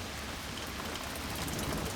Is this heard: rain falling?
yes